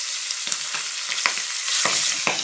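Whole pabda fish frying in hot, vigorously spitting oil, with a steady loud sizzle and sharp pops and crackles every fraction of a second, close by, with no voices.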